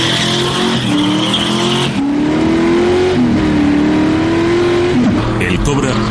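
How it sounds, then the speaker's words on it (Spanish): A Cobra sports car with a 485-horsepower engine and 1100 kg weight accelerates hard, its engine note rising through gear changes in a loud, close, continuous roar, with narration running over it. "El Cobra podía ponerse de 0 a 100 en solo 4 segundos."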